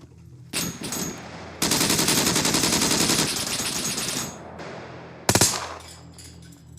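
Machine gun fire in the video game SCUM: a few short bursts, then a long sustained rattling burst of rapid shots, close and loud, ending with one more sharp burst.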